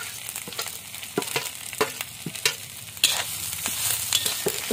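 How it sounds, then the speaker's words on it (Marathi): Grated coconut roasting in a pan with ginger, garlic and green chilli, a continuous dry sizzle punctuated by regular scraping stirs of a spatula, getting slightly louder midway. "खोबरं व्यवस्थित भाजून घ्यायचं."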